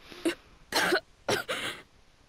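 Several harsh coughs from one person nearby in a video game, set amid smoke and a burning smell, a short single cough followed by a pair of heavier bursts, with quiet pauses between.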